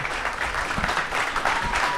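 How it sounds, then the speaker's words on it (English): A live audience at a debate and Q&A event applauds, a steady, dense wash of clapping that holds at an even level throughout. "Let's give everyone a round of applause."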